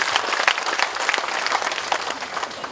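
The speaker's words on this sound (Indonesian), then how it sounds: "Tepuk tangan untuk 2 triliun" A crowd at an Indonesian city tax service launch event in Bandung applauds steadily, dense clapping filling the whole stretch at moderate loudness with no voices over it.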